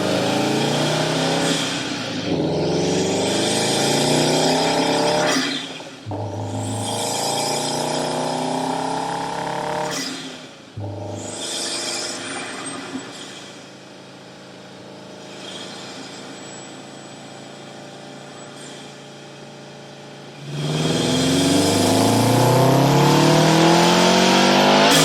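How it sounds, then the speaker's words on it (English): A Subaru WRX STI with an aftermarket intake revs repeatedly, with rising and falling engine pulls, loud and close, separated by short drops to idle, and a final strong rev at the end. "because it makes that cool intake noise."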